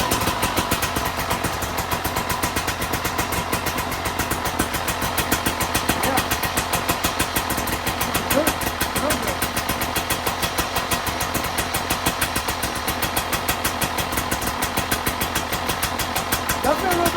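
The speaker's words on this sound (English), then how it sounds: "We'll do a little startup now. See how she sounds." KTM 300 XC-W two-stroke hard enduro dirt bike (2025) fitted with an aftermarket pipe and silencer fires up and settles into a steady, rapid idle, a close, continuous buzzing putter with regular pulses throughout.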